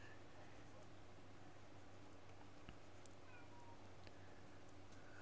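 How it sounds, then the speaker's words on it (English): A house cat meows at a door, wanting to be let in, faint and distant against a quiet indoor background. "I hear my wife's cat at the door."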